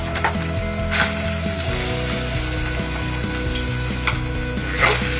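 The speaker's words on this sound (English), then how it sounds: "So I'm gonna put in white onions into this." White onions sizzle steadily in hot oil in a pan, a loud, continuous crackling fry with occasional stirring scrapes, no talking over it.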